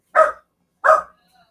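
A dog barks twice, each bark a short, loud burst about two-thirds of a second apart, with a faint whimper trailing after, in a quiet home setting.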